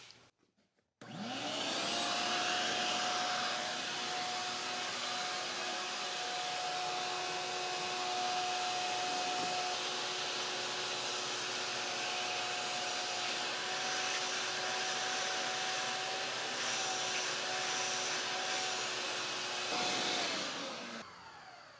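A large shop vacuum pulls air through a 3D printed adapter on a mini CNC machine, a steady loud whooshing roar with a faint whine that starts abruptly and runs unchanged until it cuts off near the end.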